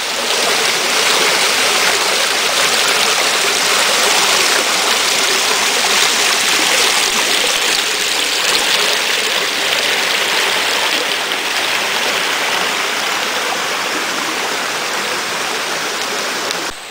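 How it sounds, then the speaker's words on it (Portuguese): Gurita waterfall on the Araguari river, a loud, steady roar of rushing, falling water filling the scene without pause and heard alone with no voices. "Cachoeira da Gurita, tem aqui o rio Araguari, as suas primeiras imagens de curso de água."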